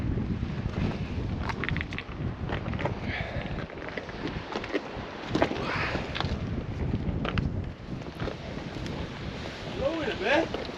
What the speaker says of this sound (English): Oh, our wind's picked up now.